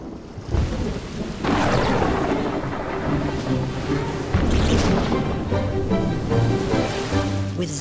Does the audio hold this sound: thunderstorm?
yes